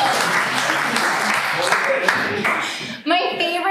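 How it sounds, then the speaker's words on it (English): Comedy show audience applauding in a sustained wash of clapping, with cheering voices mixed in and a voice rising over it near the end. "This round of applause."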